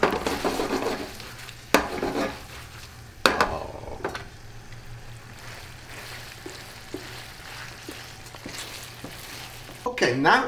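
Shrimp piccata sauce simmers and sizzles in a pan on a gas stove while a utensil stirs and scrapes, with several sharp clanks of metal against the pan rising over the steady frying hiss.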